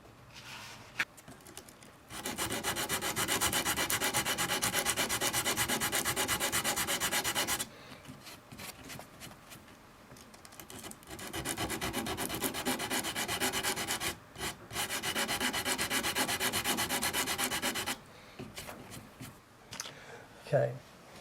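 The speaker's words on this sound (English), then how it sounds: "So we'll go and get a bit of sandpaper, and the first one we're going to use is probably 60." Sandpaper of 60 grit scrubs a Stratocaster guitar neck in long, steady rasping passes, close and fairly loud, with brief pauses between strokes.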